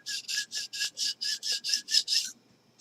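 A knife is drawn across a sharpening stone in about ten quick, even rasping strokes. The scrapes are close and clear, then stop, and no one speaks.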